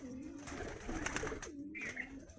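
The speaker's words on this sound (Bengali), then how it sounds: "গিরিবাজ, ম্যাড্রাস, আন্দ্রা, সমস্ত ধরনের পায়রাই একসাথে রাখা রয়েছে" Giribaz, Madras and Andhra pigeons kept together in a loft coo softly in low, rolling phrases against a quiet, busy background hum.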